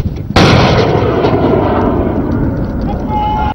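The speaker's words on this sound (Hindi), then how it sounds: "फायर किए गए मिसाइल्स ने कामयाबी से अपने अहदाफ को निशाना बनाया" Pakistan Navy missiles fired during a naval firing demonstration, heard as an abrupt, very loud blast that becomes a sustained roar lasting about three seconds before cutting off.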